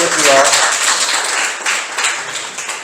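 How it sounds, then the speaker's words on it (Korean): A hall of attendees at the opening of a labour-movement memorial forum applauds in a loud, washy burst that tapers off slowly, with a brief voice at the start. "모두 큰 박수로 다시 한번 개회를 축하를"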